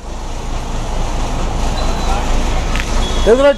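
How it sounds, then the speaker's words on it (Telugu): A bus approaches along a road amid steady traffic noise, a continuous rumbling roar that swells toward the end with a brief horn-like tone, with a voice talking over it. "బస్సు ఎదురొచ్చిందండి"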